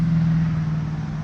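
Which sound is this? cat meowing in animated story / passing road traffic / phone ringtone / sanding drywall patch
passing road traffic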